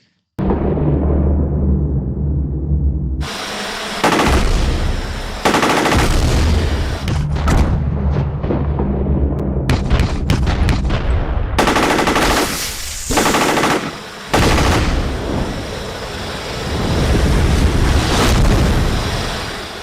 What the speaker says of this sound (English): That machine gun is awesome.